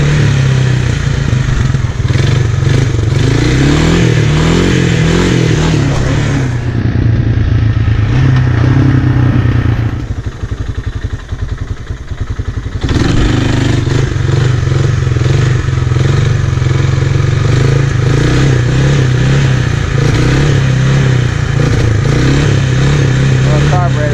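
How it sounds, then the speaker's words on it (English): Close, loud engine drone of a Honda 300 Fourtrax ATV with a carburetor bog, rumbling and revving unevenly with clatter and a brief dip in power midway. "Little carburetor bog there."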